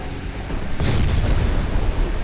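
A torpedo strikes a ship in a naval battle game, bursting into a loud, close explosion with a sharp crack, then a sustained low roar and rumble that fills the rest of the moment.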